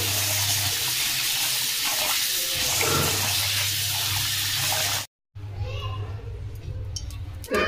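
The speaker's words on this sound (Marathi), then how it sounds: "तांदूळ आपल्याला स्वच्छ धुवून घ्यायचे।" Rice rinsed clean under running tap water in a sink, a steady gush for about five seconds, then a short break and splashing again, with faint voices in the background.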